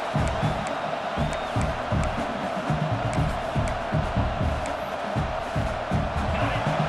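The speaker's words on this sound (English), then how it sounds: "This crowd bringing the energy and noise early." Steady roar of a large stadium crowd in a college football video game, cheering and murmuring continuously with no breaks, dense and loud throughout.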